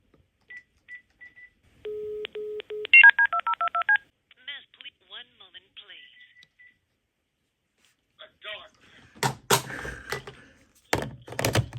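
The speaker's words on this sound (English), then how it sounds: "I'm just gonna make a call, and we'll listen to the AT&T 213 as I make a call here." An AT&T 213 telephone dials out with a quick run of crisp DTMF keypad tones, each a short steady beep. Quiet clicks and handling noises follow, then a voice is heard on the line.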